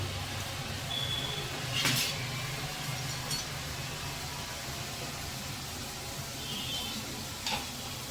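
Palak sev, a spinach gram-flour snack, frying in hot oil gives a steady, soft sizzle throughout, with a couple of brief clinks over the bubbling.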